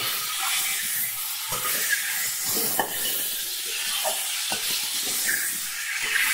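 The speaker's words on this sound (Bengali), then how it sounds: "দেখো আমি ভালো করে ভাজা করে নিচ্ছি" Continuous sizzling hiss of Bengali winter-cabbage buds (sheeter koli) frying in a pan, broken by occasional soft taps and scrapes of a utensil.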